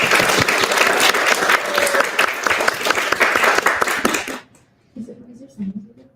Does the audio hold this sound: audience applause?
yes